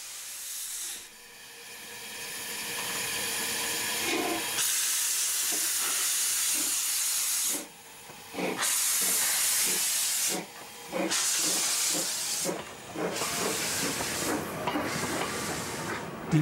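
A replica of the Adler, Germany's first steam locomotive, chuffs along pulling coach-like carriages, with loud bursts of venting steam between rhythmic puffs and wheels clattering steadily nearby.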